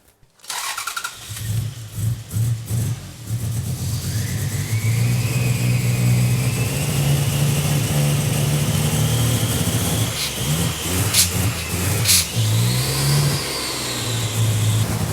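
A turbocharged Toyota V6 engine starts and idles roughly, running too rich and misfiring, revving unevenly with sputtering, stumbling bursts, close and loud throughout.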